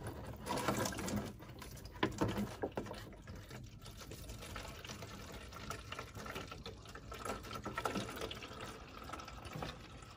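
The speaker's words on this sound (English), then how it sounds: "you can hear the water draining out" Water drains and trickles out of a capped hose, a faint, continuous gurgling and splashing flow lasting about ten seconds with small irregular swells.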